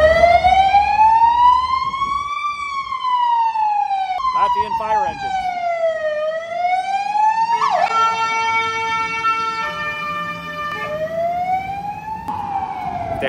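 A loud fire engine siren wailing up and down through a Riga street, shifting into rapid yelp tones and back as the vehicle passes close by, over traffic noise.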